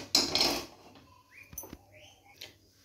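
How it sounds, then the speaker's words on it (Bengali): A kadai (wok) is set down on a gas stove in a home kitchen: a loud metallic clatter and scrape opens, followed by a few lighter clinks and taps, close and alone with no talk. "কড়াইটা গ্যাসে চাপিয়ে দেব।"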